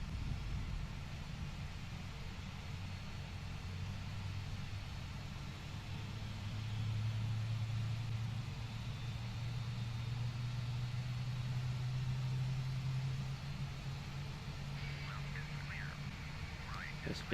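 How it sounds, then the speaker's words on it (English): An Airbus A320 engine 1 spools up during start in the Prepar3D flight simulator, a steady low whine and hum that rises and sits loud, with background hiss and faint cockpit clicks near the end. "I guess that means engine 1 is started."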